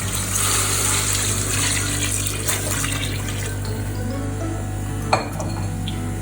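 Three cups of water pour into a beef and bottle gourd curry cooking in a pot. The pour is a steady, continuous splashing rush with a single metallic clink near the end.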